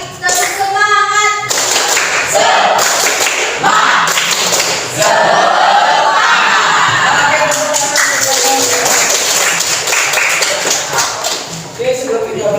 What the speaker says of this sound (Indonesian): Kali lagi tepuk semangat.